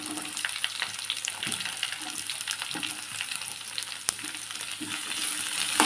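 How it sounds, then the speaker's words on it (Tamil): Continuous sizzling of onions frying in a pan, broken by a few soft scraping stirs and a single sharp clink, heard up close without speech. "வெங்காயத்தை ஆட் பண்ணிவிட்டு நல்லா இது மாதிரி வதக்கிக்கலாம்"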